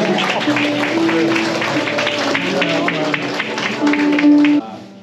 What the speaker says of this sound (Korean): 큰 박수로 환영해 주시고